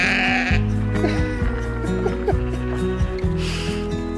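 Sheep bleat repeatedly on a steep, popular UK hiking trail, several close, wavering calls overlapping one another over steady outdoor background noise.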